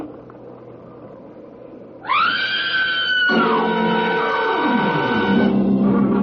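A woman's scream from inside a barn starts about two seconds in, rising and then holding long and loud, with a second overlapping wail and a steady background rumble.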